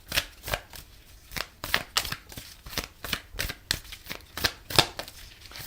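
A deck of Moonology oracle cards is shuffled close by, giving a steady run of soft riffling snaps and flutters in quick, fairly regular succession with no talk.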